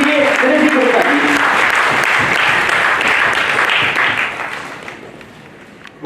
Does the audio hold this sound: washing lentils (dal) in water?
no